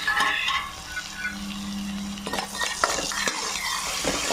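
Onions and green chillies fry in oil in a pan, a soft sizzle under scraping and stirring with a utensil and a few clinks against the pan.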